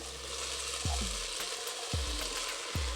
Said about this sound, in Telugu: ముందుగానే ఒక 1/2 అవర్ నేను బాస్మతి రైస్ని నానపెట్టేసుకున్నాను. అది ఇందులో వేస్తున్నాను.